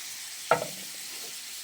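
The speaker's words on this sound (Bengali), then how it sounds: "এবার একটু মাছের মাথা ভেজে নিচ্ছি" Fish head frying in a pan gives off a steady, moderate sizzle, broken by a sharp clatter midway and another near the end.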